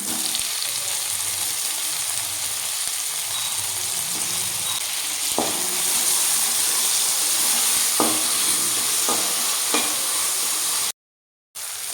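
Chopped tomato sizzles in a hot pan with capsicum while pasta sauce is cooked, a steady loud frying hiss broken by several sharp scraping stirs, ending in a brief cutout.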